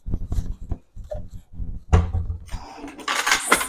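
A small bowl and a spoon handled in a kitchen while preparing a no-cook condiment. Soft knocks and clinks of dishware come first, then brighter scraping and clattering, with a brief bit of speech.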